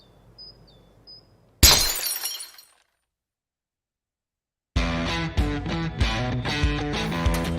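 A glass bottle breaking in half, a sharp loud crash with scattering shatter that decays over about a second, then silence before upbeat music enters.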